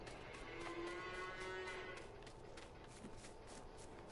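Cows in the Farming Simulator 19 video game let out a drawn-out low moo lasting about a second and a half, alone over a quiet, faint ambient farm backdrop.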